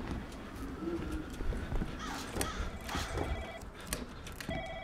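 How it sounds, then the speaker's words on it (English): A telephone rings in the indie horror video game Room 303, its repeated electronic trills sounding over a dense, noisy game soundscape at moderate level. "somebody's calling me on the phone"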